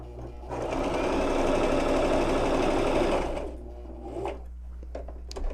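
A sewing machine runs a seam on a cloth face mask, whirring in a fast, even stitching burst for about three seconds before slowing and stopping, followed by light handling clicks.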